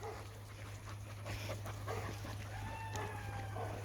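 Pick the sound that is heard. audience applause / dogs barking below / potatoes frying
dogs barking below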